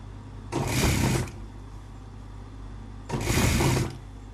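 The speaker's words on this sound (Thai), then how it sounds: "เย็บไปเลยนะคะหนึ่งตีนผี" Two short bursts of a sewing machine stitching through a garment lining during a hem alteration, each run lasting under a second, close and clear against a quiet background.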